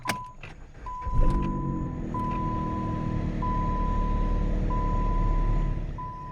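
A used car being started after an airbag repair: a brief click and crank followed by the engine catching into a steady idle, with a regular chime beeping repeatedly over it.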